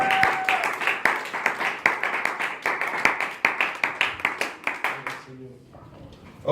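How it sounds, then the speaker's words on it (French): A church congregation claps in unison during worship, a brisk steady beat of sharp hand claps that carries on for several seconds before stopping, followed by a moment of quiet. "Maintenant, nous allons applaudir pour la gloire."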